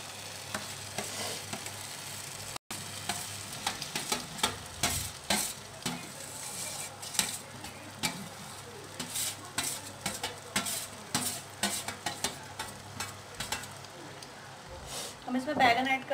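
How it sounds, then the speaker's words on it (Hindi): Mashed eggplant is stirred into a frying masala in a pan, with steady sizzling and repeated scrapes and clinks of a utensil against the pan; the sounds are close and continuous throughout. "अब मैं इसमें डालूंगी जो मैंने बैंगन को मैश किया था वो वाला बैंगन।"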